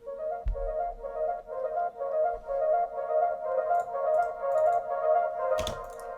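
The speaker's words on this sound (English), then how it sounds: "it's just a simple harp, and I've just layered two presets from Serum." Synth harp arpeggio built from two layered Serum presets: a continuous, bright plucked pattern of rapid repeating notes held at steady loudness, with a soft thump near the start and a brief noisy burst near the end.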